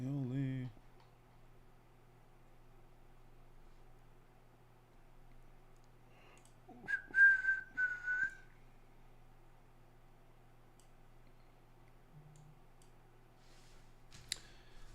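A man at a home trading desk whistles a short melodic phrase along to music, a thin tune rising and falling for about a second in an otherwise quiet room with a few faint clicks.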